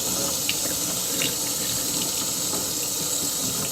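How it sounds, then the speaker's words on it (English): Tap water running into a sink while a nasal floss string is rinsed, a close, steady splashing flow with small spatters over a continuous hiss, with no voices. "I'll rinse it off with water"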